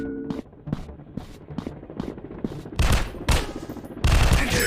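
Rapid gunfire in a PUBG-style counter-terrorist first-person shooter video game: a series of sharp, loud shots and bursts, spaced at first and then denser, heavier volleys toward the end.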